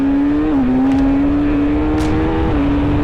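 A 2025 Kawasaki Z900 SE motorcycle with a quick shifter, loud and close. Its engine drones steadily, with two brief dips in pitch where it shifts down and the note resettles.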